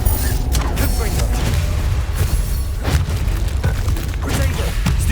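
A Confringo blast spell going off in Hogwarts Legacy, heard as booming, burst-like impacts over a dense, rumbling game soundscape with mechanical creaks, with a few sharp hits spread across the stretch.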